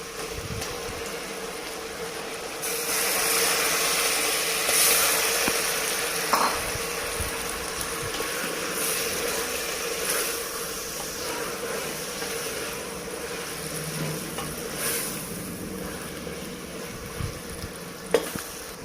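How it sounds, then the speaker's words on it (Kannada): A quarter kilo of mutton frying with tomatoes in a pan gives a steady, close sizzle, broken now and then by the scrape and clatter of stirring. "ಒಂದು 1/4 kg ಮಟನ್ ಕೂಡ ಹಾಕಿ ಅದ್ರಾಗ ಫ್ರೈ ಮಾಡ್ತೀನಿ ಟಮಾಟೊ ಜೊತೆಗೆ."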